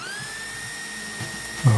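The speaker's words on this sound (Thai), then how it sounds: "ดอกซิกแซกนี่ เจาะทะลุนะครับนี่เจาะทะลุ" Carbide zigzag drill bit boring through ceramic tile, a steady whining drill tone running throughout with a louder grinding burst near the end.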